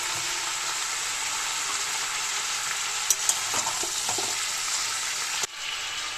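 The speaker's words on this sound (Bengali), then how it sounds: "এই নুন আর হলুদ গুঁড়ো দিয়ে এখন একটু ভালো করে ভাজতে থাকবো" Food seasoned with salt and turmeric powder fries in a pan, giving a steady, close hiss of sizzling oil throughout. A few faint stirring clicks and a brief knock come near the end, and nobody speaks.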